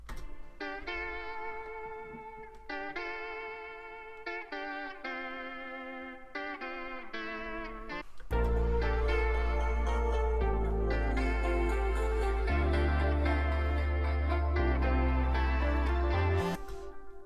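Guitar melody drenched in heavy reverb with a half-speed layer underneath, soft plucked notes ringing out, then a fuller, louder section with deep warm low end from about the midpoint on, for a laid-back beat.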